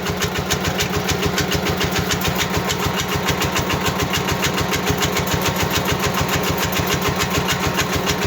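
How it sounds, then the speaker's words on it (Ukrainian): A small motor driving a homemade generator built from an old electric motor runs steadily and close by, with a fast, even pulsing chug and a buzzy rattle that holds unchanged throughout. "Чуєте, як мотор працює?"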